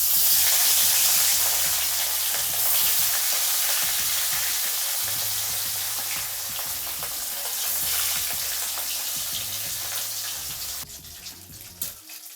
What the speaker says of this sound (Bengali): তেলটা আমার গরম হয়ে গেছে, এবার মাছগুলো কড়া করে ভেজে নেব।